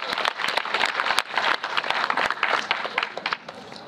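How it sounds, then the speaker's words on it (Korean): An audience at a Star Chair event with actor Jung Woo-sung breaks into applause, a loud, continuous crowd of many hands clapping at once, with scattered sharper claps standing out near and steady throughout. "네, 박수 한번 부탁드리겠습니다."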